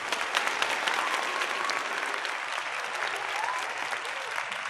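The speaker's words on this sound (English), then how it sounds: "Let's get some applause up for you." Applause during a morning online gathering, a continuous crowd of clapping at moderate volume with a few sharper claps standing out and faint voices mixed in underneath.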